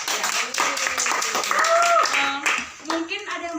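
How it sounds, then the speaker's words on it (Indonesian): Audience clapping at a stage performance, rhythmic claps mixed with voices and cheering, with people talking and calling out over the applause. "Tepuk tangan untuk kita semua."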